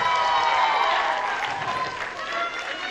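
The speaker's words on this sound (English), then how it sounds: "Let's give them a round of applause." Applause and crowd noise fill the room as talent show finalists walk onto the stage, a steady, loud clapping wash that holds throughout.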